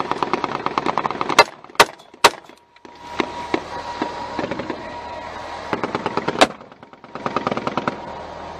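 A machine gun fires in combat against the Taliban, loud, close bursts of rapid shots broken by a few sharp single cracks and brief pauses, with no speech.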